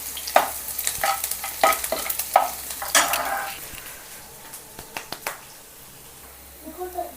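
Chopped garlic hits hot oil in a pan and sizzles over clinking stirring taps, with a burst of crackling early on that settles to a quieter hiss toward the end.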